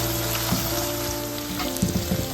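Okra frying in hot oil for a Sri Lankan okra curry, a steady close sizzle with faint stirring clinks and bubbling, alone without voices.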